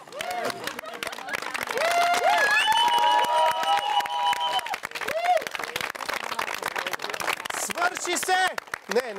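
A studio audience at the Fermata 9 finale breaks into applause and cheering, heard as a dense wash of clapping mixed with loud voices and chatter throughout.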